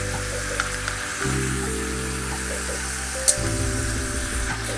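Two sausages sear in a frying pan with a steady close sizzle, joined by a low hum that shifts in pitch, plus a sharp pop near the end.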